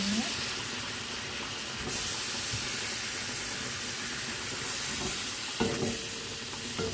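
Chicken pieces frying in a pan for an Arabic-style chicken pasta, giving a dense, loud continuous sizzle and hiss with occasional stirring knocks close by.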